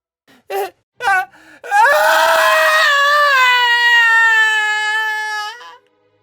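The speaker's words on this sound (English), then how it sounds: "he let out a blood-curdling scream." A few short gasping breaths, then one long, loud, high-pitched scream held for several seconds before cutting off.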